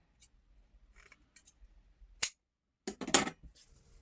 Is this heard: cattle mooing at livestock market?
no